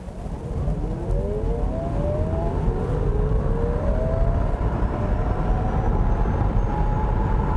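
A Chevrolet Bolt EV accelerating hard in sport mode, giving a steady loud road and motor roar with rising whine tones sweeping upward, continuous with no talk.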